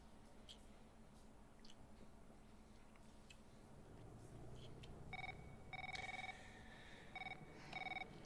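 An electronic phone rings in the video game House of Ashes, two bursts of repeated tonal trills rising over a low ambient game backdrop late in the moment, fairly clear but not loud.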